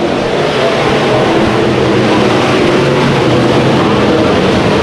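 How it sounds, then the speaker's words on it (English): Dirt-track B-mod race cars roar off the green flag for a 20-lap main event at Antioch Speedway, a dense, loud wash of engine noise with rumbling revs sustained throughout and no clear breaks. "20-lap B-mod main event. We go green."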